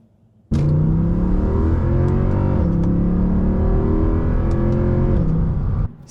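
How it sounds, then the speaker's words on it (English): A Mercedes C63 AMG engine at full throttle, snapping abruptly into a loud sustained roar with rising and falling rev tones before cutting off sharply near the end, with no talk. "The more money I spend, the more this makes me want to floor it."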